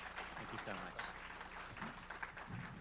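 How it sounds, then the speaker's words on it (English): An audience at a talk gives a faint, scattered round of applause, soft clapping blended under speech and room murmur. "Let's give him a round of applause for that."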